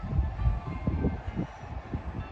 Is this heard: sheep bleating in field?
no